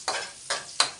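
Tomato and onion being sautéed in a pan, with three separate bursts of loud, close stirring and sizzling in quick succession and quieter frying between them.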